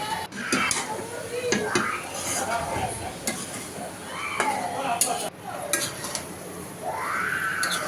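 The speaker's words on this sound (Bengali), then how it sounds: "এখানে মশলা দিয়ে টমেটো দিয়ে মশলাটা কষিয়ে নিচ্ছে।" Onion, tomato and spices are stirred in a pan with metal utensils, bringing repeated clinks and scrapes over a soft sizzle. Voices and background chatter murmur beneath the cooking.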